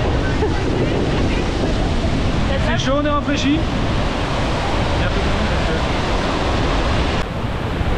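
Steady roar of a roadside waterfall in the Norwegian fjords, close by, continuous and loud throughout, with people speaking briefly over it.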